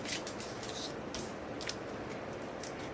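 Backing paper peeled off sticky foam strips for a handmade notecard, heard as soft, close tearing and rasping swipes repeated several times over a steady low background hiss.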